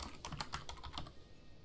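Keys tapped on a computer keyboard to enter a horse's name in Stardew Valley, a short irregular run of quiet clicks close by, with no talking.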